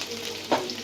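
Onion hits hot oil already holding cumin, chopped garlic and ginger, giving a quiet continuous sizzle with one sharp burst of frying as the onion drops in, no voices.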